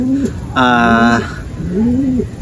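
Pigeons coo in low, throaty rolls, one at the start and one near the end, while a voice speaks over them in the middle.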